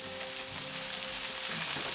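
Seasoned burgers sizzle on a Blackstone griddle, a dense continuous fry hiss with faint crackles, close and steady for the whole stretch, no voices.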